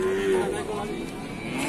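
Cattle, including a mother cow with a calf about five days old, low mooing held steadily under farm and market background noise, moderately close.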